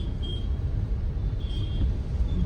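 Road traffic on a Mumbai street, a steady broadband rumble of car and bus engines with a faint high brake hiss, continuous and fairly close throughout.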